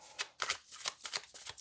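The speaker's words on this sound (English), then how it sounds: "A few more shuffles and I'll cut the deck." Tarot cards shuffled by hand in a quick run of crisp riffling bursts, close and alone with no talk.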